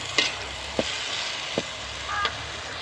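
Velai greens, a spinach-like leafy green, sizzle steadily as they wilt in a hot pan, a constant frying hiss broken by a few soft stirring knocks.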